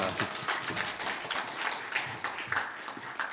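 A church congregation at a New Year revival service claps as the pastor comes forward, a dense, fairly faint patter of many hands blending into a continuous wash of applause.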